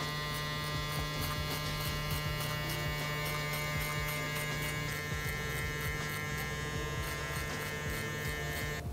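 Electric hair clippers buzz continuously while cutting a burst fade fohawk, a steady close mains-pitched hum with faint rhythmic variations as the blade passes through hair.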